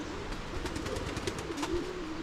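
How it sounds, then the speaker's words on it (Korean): Low, soft pigeon cooing repeats over steady outdoor background noise with a few faint clicks, at a church in Ethiopia. "비둘기 집이네"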